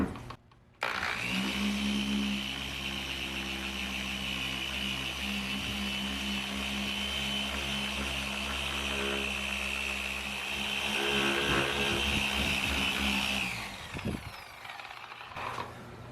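An electric polisher works car paint, whirring at a steady high speed, loud and close, humming continuously before winding down near the end.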